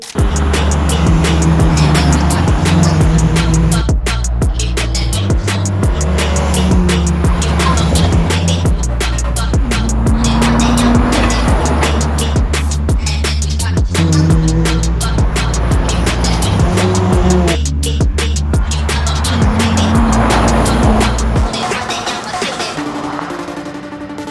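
A BMW E36 328 is driven hard, its engine note loud and steady throughout with rising and falling gear pulls, then cutting off near the end.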